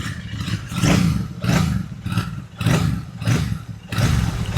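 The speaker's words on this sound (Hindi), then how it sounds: "इसका एग्जॉस्ट नोट भी सुन लो साथ साथ।" Royal Enfield Super Meteor 650 motorcycle engine revved repeatedly through its exhaust, loud and close, with five or six rising blips separated by short dips back toward idle.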